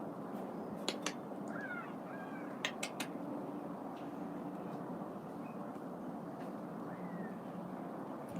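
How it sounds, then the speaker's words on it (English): A crow calls a few times, short sharp caws spread across a cold outdoor scene over a steady broad rumble, with faint chirps and no speech. "Actually, it's a crow."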